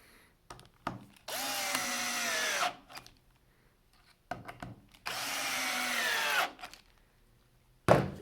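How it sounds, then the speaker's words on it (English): A power drill countersinks holes through a 3D-printed drilling template in two sustained whirring runs of about a second and a half each, separated by brief knocks and handling noises, close and clear. "Just countersinking those."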